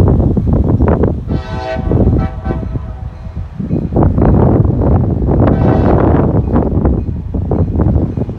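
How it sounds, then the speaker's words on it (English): A freight train with a caboose rumbles past nearby on an industrial spur with a horn blast, heavy wind buffeting the microphone throughout. "Train with a caboose."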